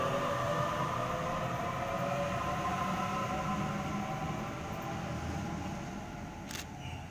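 A Sydney train on a Lakemba service rumbles steadily along platform 2 at Canterbury station, its low droning hum and faint metallic whine slowly fading as it pulls away, with a brief click near the end.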